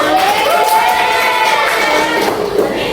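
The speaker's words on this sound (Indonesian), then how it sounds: "beri aplaus buat kalian semua" Schoolchildren in a classroom cheer and shout together in a loud, sustained burst of crowd noise, with high excited voices layered over steady clapping-like wash throughout.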